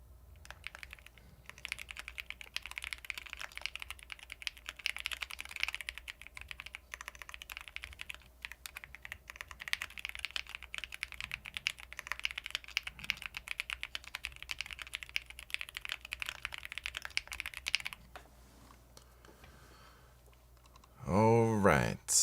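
Rapid, steady typing on a computer keyboard during a timed typing race, a dense run of clicks lasting about eighteen seconds before stopping, with a brief louder burst near the end.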